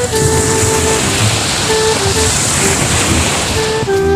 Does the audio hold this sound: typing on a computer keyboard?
no